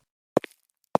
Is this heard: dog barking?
no